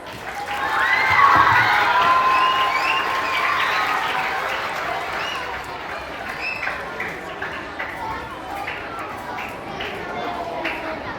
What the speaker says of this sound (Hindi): एक बार फिर से आप लोग जोरदार तालियां बजाइए डेबोरा हाउस के लिए।